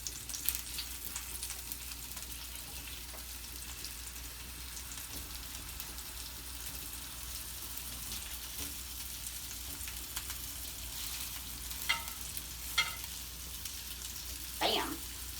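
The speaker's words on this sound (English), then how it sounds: "It's good when you put them in the pan and they immediately sizzle. That's the sound you want." Meatballs frying in hot olive oil in a pan, giving a steady, dense sizzle throughout with a few louder crackles and pops near the end.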